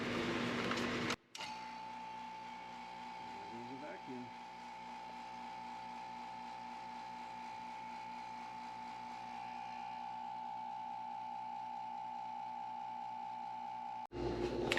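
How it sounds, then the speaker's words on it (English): A vacuum pump runs steadily for about thirteen seconds while casting a custom inlay ring, giving a constant mechanical hum with a strong tonal drone and faint rattling, starting and stopping abruptly. "Turn on the pump."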